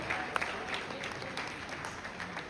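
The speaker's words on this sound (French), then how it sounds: "Et on accompagne encore une fois par les applaudissements," Audience applause at a Hilton Hotel gala evening, steady dense clapping throughout, moderately distant and even, with a faint voice or two underneath.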